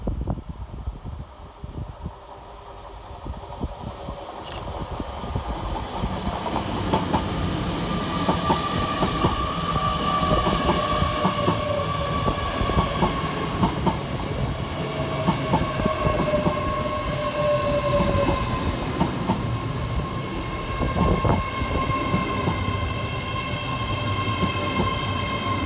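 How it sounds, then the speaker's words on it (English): An LNER Azuma class 801 train arrives at Newark Northgate station, wheels clattering and brakes squealing in long steady tones as it rolls in slowly, with continuous rumble and no voices. "Arriving 8 minutes late is 801-202, working the 11:21 LNER Azuma service from Glasgow Central to London"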